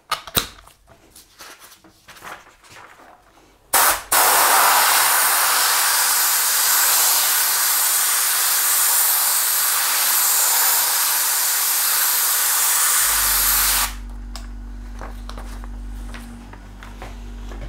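After a few clicks and light handling noises, a spray gun blasts a loud, continuous hiss of spray for about ten seconds, then cuts off, leaving a low mechanical hum.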